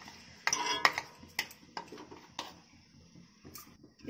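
A spoon scrapes and clinks against a hot kadhai while rice flour batter is slowly stirred, with scattered metallic taps and soft scraping strokes, close and fairly quiet.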